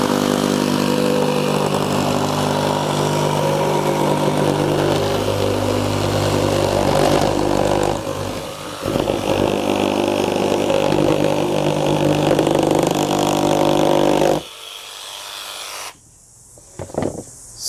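A Milwaukee M12 Fuel cordless jigsaw cuts steadily, a loud buzzing motor whine with reciprocating blade rasp that dips briefly mid-cut, then stops abruptly, leaving a few quieter clicks and handling sounds.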